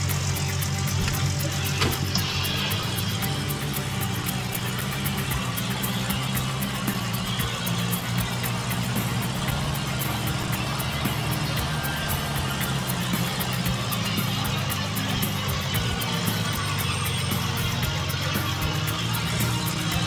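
Vehicle engine idling in the Gold Rush mining game, a continuous mid-pitched motor drone running steadily and fairly loud with a slight knocking texture, no talk over it.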